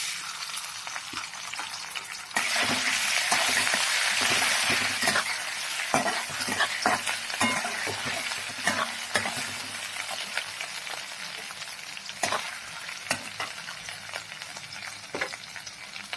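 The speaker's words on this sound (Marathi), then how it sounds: "तेल चांगलं टाकल्यानंतर आपण इकडे जे आलं, लसूण, मिरची आपण हे जे खलबत्त्यामध्ये बारीक ठेचून घेतलं होतं ते याच्यामध्ये टाकूया." Crushed ginger, garlic and green chili hit hot oil in a pan for a spring onion greens stir-fry, producing a loud, steady sizzle with sharper spatters and stirring scrapes throughout, no voices.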